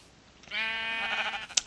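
Sheep in the Minecraft video game bleat once in a clear, close, wavering call lasting about a second, followed by a brief sharp click, with no talking.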